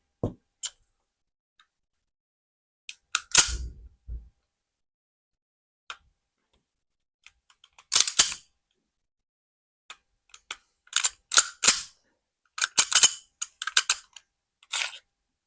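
The triggers of WE G18 gas blowback pistols are pulled dry, producing crisp, close mechanical clicks in sparse single snaps and short clusters, separated by silent gaps, with no voices.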